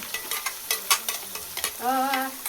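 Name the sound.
frying in pan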